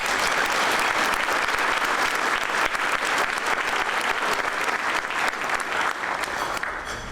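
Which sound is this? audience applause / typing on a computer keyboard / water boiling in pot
audience applause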